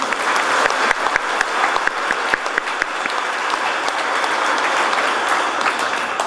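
A church congregation applauding together, dense sustained clapping from many hands filling the room for several seconds with no talk over it.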